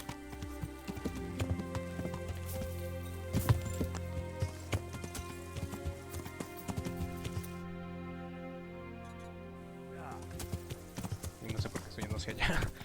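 Horse hooves clip-clop at a steady walking rhythm in the medieval game Kingdom Come Deliverance, moderately near and mixed with ambient rain-like patter and background game sounds.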